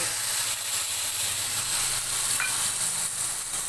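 Fenugreek seeds, a bay leaf torn in two and ground spices fry in hot oil for a pabda fish curry, a loud, steady, close sizzle and hiss that runs throughout with no talking.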